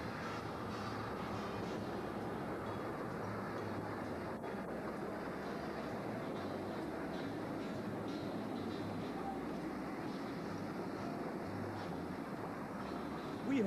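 A model train, the 4449, running on the Gold Coast Modular Railroad layout, a steady, faint, continuous rolling rumble with no clear breaks.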